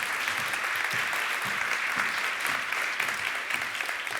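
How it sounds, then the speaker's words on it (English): A conference audience at the World Circular Economy Forum claps steadily to welcome a speaker onto the stage, an even wash of many hands at moderate distance with no break or talk over it. "Some applause."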